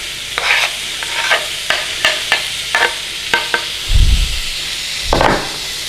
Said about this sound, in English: we're going to give our onions a little sautéing first